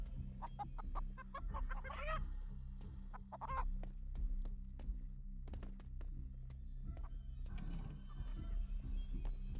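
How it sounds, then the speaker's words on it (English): Video game chickens cluck in short, scattered bursts over a low, steady background hum, with occasional sharp clicks; moderately distant and fairly quiet. "Chickens."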